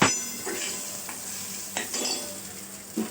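Spice masala with red chili powder and turmeric being stirred in a pan, a steady sizzle underneath with a few scraping strokes of the spoon.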